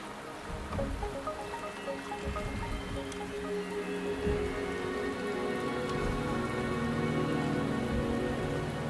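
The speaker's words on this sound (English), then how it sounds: "The rain is subsiding, and the sky will soon clear." Steady rain patters on surfaces in the video game Wuthering Waves, a dense, even hiss of drops with light splashes and a soft tonal musical bed beneath, no voices.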